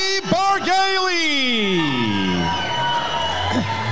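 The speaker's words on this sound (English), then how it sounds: "So it sounds like the crowd's on Jordie's side." A Muay Thai crowd at YOKKAO 40 cheers and whoops for Australian fighter Jordie Bargailie as he is welcomed into the ring, with one long, drawn-out voice falling in pitch over loud, steady crowd noise.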